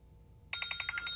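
A telephone rings with a rapid electronic bell trill, bursts of repeated pulses starting abruptly after a brief quiet moment, loud and close with no talking.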